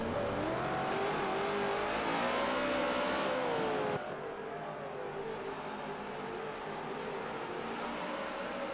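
NASCAR race cars in a sim racing game at the Indianapolis GP circuit: engines drone and rev continuously at close range with rising and falling pitch, and the mix drops slightly in level partway through. No one speaks.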